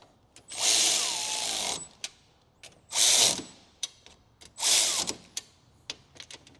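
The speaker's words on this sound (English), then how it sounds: "Get my electric ratchet." Cordless electric ratchet driving a fastener during a charge port replacement on a 2023 Nissan Leaf, three close whirring bursts of about a second each, separated by small clicks and handling taps.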